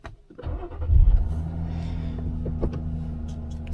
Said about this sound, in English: let's see if this works. Start the Jeep.